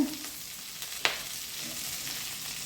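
Whole spices and coriander seeds sizzle and fry steadily in a clay pot over a flame for biryani, a constant broadband crackle with one sharp stirring clink near the middle, no voices.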